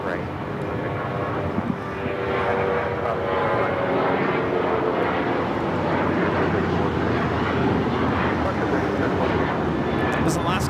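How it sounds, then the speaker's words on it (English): An Alaska Airlines Boeing 737-800 taking off from LAX bound for Belize City, a steady broad jet roar holding throughout, with a voice talking over it. "This is Alaska Airlines 1334 taking off to Belize City on the 737-800."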